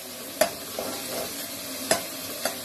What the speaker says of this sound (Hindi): प्याज को ज़्यादा ब्राउन नहीं करना, क्योंकि ये वाइट राइस है तो फिर उसका कलर चेंज हो जाएगा।